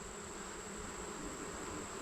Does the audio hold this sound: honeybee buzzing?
yes